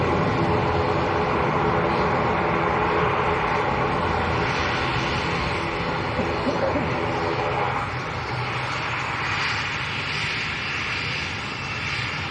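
Aer Lingus jet bound for Belfast at Manchester Airport, a steady, loud broadband engine roar that holds throughout and eases slightly toward the end, with a voice talking over it.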